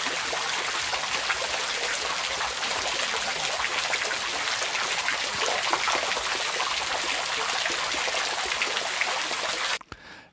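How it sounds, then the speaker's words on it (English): Recorded sample of water from a fountain at Bom Jesus, a dense, steady hiss of splashing and trickling water held evenly for about ten seconds and then cut off abruptly near the end, with no voices. "we have cut our sample from the fountain, and the sample that we are going to use is this one."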